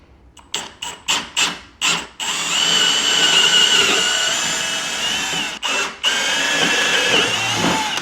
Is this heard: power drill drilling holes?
yes